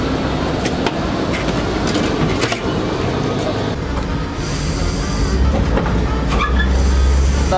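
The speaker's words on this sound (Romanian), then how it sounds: "Chiar vă invit în tramvaiul meu, este al meu." A city tram rolls along its tracks loudly and close, with a constant rumble, clicks over rail joints and brief metallic squeals as it travels.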